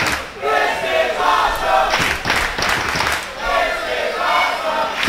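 A crowd at a wrestling match between The Young Bucks and Mixtape Kings at IWL in Chino, California, chants loudly in rhythmic, swelling waves with claps and thumps, filling the hall close and continuous.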